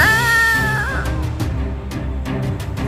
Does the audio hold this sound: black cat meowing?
yes